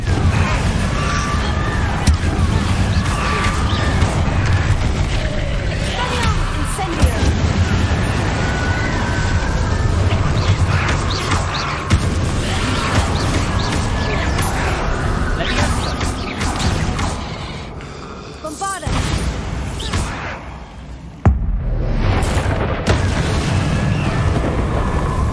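Bombarda and Confringo spell blasts in Hogwarts Legacy combat inside a great room, a long loud stretch of repeated crashing impacts and booming bursts layered over constant battle clamor, with a brief drop and a final sharp hit.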